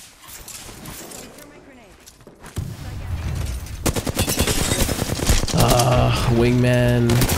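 Gunfire in the battle-royale game Apex Legends, fast cracking shots growing denser and louder toward the end, mixed with other game sounds and people talking.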